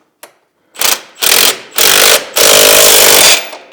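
A power tool tightens a locked nut on a CFMOTO CForce 1000 ATV, running in four short, loud, close bursts of rattling mechanical whirring that get progressively longer, the last lasting about a second.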